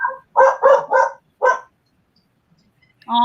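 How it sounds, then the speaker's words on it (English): Dog barking close by, four sharp barks in quick succession followed by a pause, with a short voice starting at the end. "even the dog's excited about Ed."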